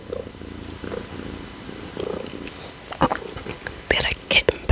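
A kitten purrs softly up close, a low rumbling texture under whispered speech, joined by a few sharper rustling or chewing-like clicks toward the end.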